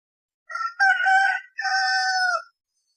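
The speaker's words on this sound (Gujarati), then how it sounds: "કૂકડો બોલે," A rooster crows nearby in a clear, loud cock-a-doodle-doo, two drawn-out bursts with a short gap between them, alone against silence.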